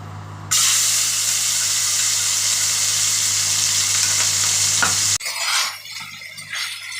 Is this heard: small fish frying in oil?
yes